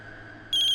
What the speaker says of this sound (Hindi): अरे फोन।